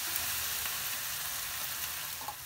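Chilli sauce and Maggi masala are stirred into vegetables in a frying pan, giving a brief, steady, close sizzle with faint stirring scrapes and no voices.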